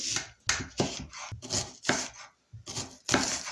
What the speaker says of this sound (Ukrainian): цибульку наріжу півкільцями тоненькими